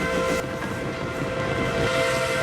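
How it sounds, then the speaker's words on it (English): A train rolls past in the Family Guy cartoon, a loud, steady rumble with a sustained horn-like tone held throughout, with no voices. "Train!"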